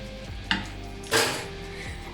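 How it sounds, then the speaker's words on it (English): Eggs being scrambled in a pan with the heat switched off, giving soft utensil scrapes and a sharp clink against the pan, close and fairly quiet in a home kitchen. "you might want to give them a little scramble without the heat on"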